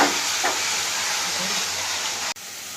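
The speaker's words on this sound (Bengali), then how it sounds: "এখানে 2টো টমেটো পেস্ট করা আছে, সেটাকেও দিয়ে দেবো। দিয়ে এটাকে একটু ভাজবো" Onion paste and tomato paste fry in hot oil, giving a steady, close sizzling hiss that runs evenly for about two seconds before a brief cut, then continues.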